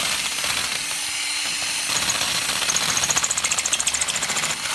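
A power drill hammers steadily at close range breaking up packed material in a drill bushing, its rapid rattling pulses growing more distinct as it breaks through.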